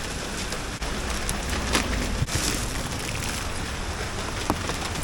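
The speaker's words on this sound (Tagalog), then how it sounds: "Grabe, lakas ng ulan." Heavy rain pours steadily in Makati during a delivery run, making a dense, continuous hiss with a few sharper knocks and spatters rising out of the wash.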